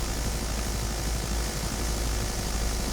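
Enemy transport helicopter in the video game BattleBit, a steady, loud, broadband rotor and engine drone holding evenly throughout with no talk over it.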